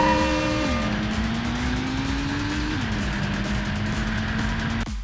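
Continuous revving motorbike engine drone from GripON, a bike racing video game, with the pitch dropping and climbing in steps between gear shifts, loud and steady throughout before cutting off abruptly near the end.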